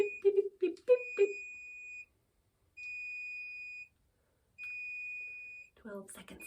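Beeps from an automated wireless curling iron sound as steady high electronic tones in three long sustained bursts with short gaps, after a short stretch of talking and before talking resumes.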